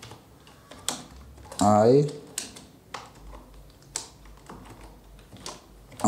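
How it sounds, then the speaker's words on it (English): Typing on a computer keyboard while entering text in Microsoft Word, with a few short bursts of key clicks between and under a man's speech. "For example, I type hello,"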